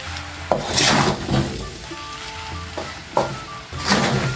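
Mee goreng noodles stirred in a hot pan, a continuous nearby sizzle broken by repeated scraping strokes and occasional knocks of the spatula, with no one speaking.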